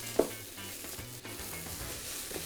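Mushroom risotto with onions and leeks sizzles steadily in a pan while being stirred, a continuous frying hiss with a small clink near the start and no talk.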